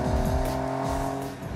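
Mitsubishi 3000GT with a V6 engine cruising at high speed, its steady engine drone and road roar loud and continuous from inside the car, with gear-shift-like pitch sweeps.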